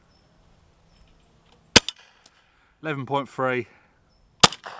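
Two sharp air gun shots fired over a chronograph, loud close cracks a few seconds apart, with a man calling out a reading between them.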